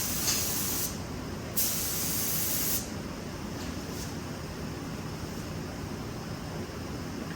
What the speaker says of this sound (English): You gotta spray this part.